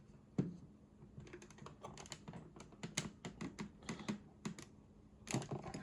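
Scissors poke a hole in the plastic gun rail of a GPStar Proton Pack, giving a run of quiet, sharp clicks and crackles, close and alone.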